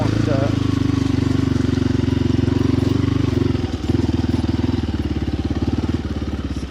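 A dirt bike engine idles while warming up, a steady close, loud low rumble with rapid even pulsing that dips briefly midway, then resumes; no talking.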